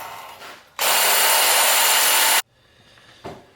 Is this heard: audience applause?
no